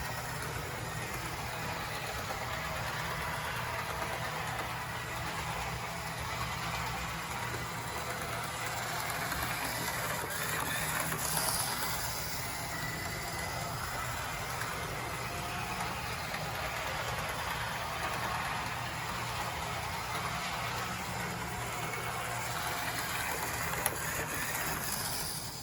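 Small electric motor of a Bachmann E60CP model locomotive running, a steady whirring hum with slightly rough, even texture that continues unbroken and fairly close.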